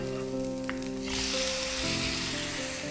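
Finely chopped garlic fries in a pan until golden, giving off a soft, continuous sizzling hiss with faint tonal background sounds behind it.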